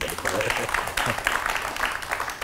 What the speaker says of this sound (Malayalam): അതുകൊണ്ട് നിങ്ങളൊന്ന് കൈയടിച്ചോളൂ